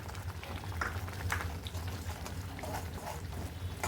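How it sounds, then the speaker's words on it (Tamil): Ginger tamarind chutney (injipuli) with chilli powder boils steadily in a pan. A continuous, dense bubbling and popping simmer sounds close and even throughout, with no talking. "மிளகாய்த்தூள் சேர்த்ததுக்கப்புறம் ஒரு அஞ்சு நிமிஷம் நல்லா கொதிச்சிருச்சுங்க"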